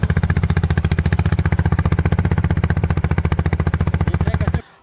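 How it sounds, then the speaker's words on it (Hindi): A loud, rapid Suzuki Gixxer SF 250 motorcycle engine with a broken exhaust silencer putters with a harsh, unmuffled exhaust, steady pulsing bursts close up, then cuts off abruptly near the end. "इतना आवाज़ कर रहा था ना, ऐसा लग रहा था बाइक में साइलेंसर है ही नहीं।"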